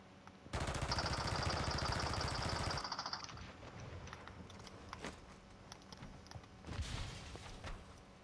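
Sustained rapid automatic gunfire in a first-person shooter video game, a loud dense burst lasting about two seconds, followed by scattered distant shots and a second shorter volley near the end.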